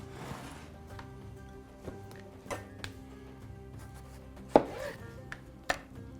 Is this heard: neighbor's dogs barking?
no